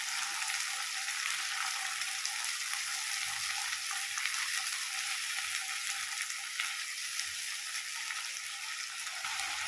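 Tomato paste fries with rohu fish in a pan, giving a continuous bright hissing sizzle, close and steady throughout, with occasional faint scrapes and no voices.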